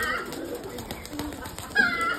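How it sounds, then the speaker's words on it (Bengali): Giribaz pigeons perched together give faint cooing sounds amid low background noise, with soft talk at moments. "দেখেন সব বসে আছে কবুতর"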